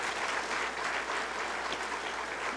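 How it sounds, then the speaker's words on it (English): Steady applause from an audience at a regional State of the Region address, honoring Mayor Stuart Houston; continuous even clapping with no talk over it. "So if I could have a round of applause for Mayor Stuart Houston"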